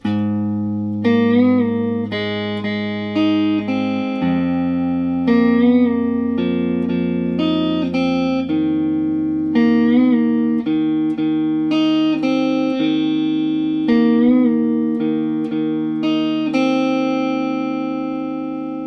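An electric guitar plays the pre-chorus riff of a song, plucked single notes over sustained bass tones, steady and loud, with no talking.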